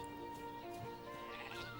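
Faint llama or sheep bleating in a Lord of the Rings: The Fellowship of the Ring video game, a soft tonal call sitting in steady game ambience.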